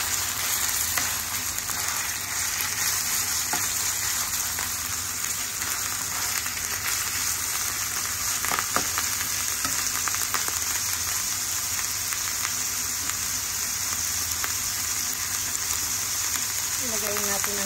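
Garlic sautéing in a pan gives a steady, close, crackling sizzle that runs unbroken for the whole stretch, with occasional faint clinks and no clear talk.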